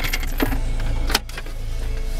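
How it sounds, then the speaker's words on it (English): A damped glove box opening in a 2007 Pontiac G5 GT, a single soft click and muffled thump close by inside the car cabin, followed by quiet interior hum. "Glove box is damped as well"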